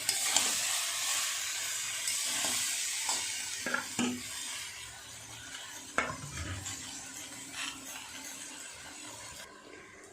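Vegetables with rohu fish head and Malabar spinach being stirred and cooked in a pan, a low sizzle and hiss broken by several sharp spatula scrapes and knocks, fading quieter toward the end.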